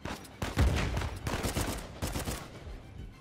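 Gunfire from the Uncharted 4 video game in the New Devon level: a rapid burst of close shots followed by a few more scattered reports, with no talking.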